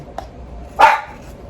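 Dog barking indoors in a kitchen: one sharp, loud, close bark following a faint short yip, then quiet.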